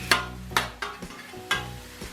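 Beef browning and being stirred on a flat griddle for a sandwich, with a few spaced scraping strokes over a low steady sizzle, close and moderately loud.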